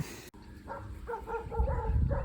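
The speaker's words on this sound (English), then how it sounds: "Big bad guard dog come and chase after me." A guard dog gives a few muffled barks and yips at some distance, over low rumbling background noise.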